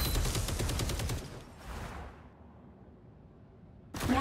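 Rapid bursts of gunfire from the Punisher in Marvel Rivals with the Ammo Overload team-up ability active, a loud fusillade that cuts off into near silence before another burst starts.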